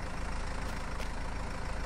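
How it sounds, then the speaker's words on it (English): Vintage farm machinery engines idle in Farming Simulator 22, a steady dense diesel rumble heard alone and close, with no talk over it. "So, I've left the engines on."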